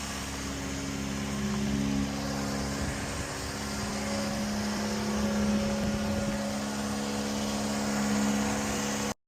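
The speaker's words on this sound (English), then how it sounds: "and I'll put the choke in and I'll give it some revs." An MK1 Ford Fiesta engine runs with the choke in and is revved, a steady close mechanical drone with humming tones that swell and ease before cutting off abruptly.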